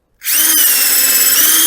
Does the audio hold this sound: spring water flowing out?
no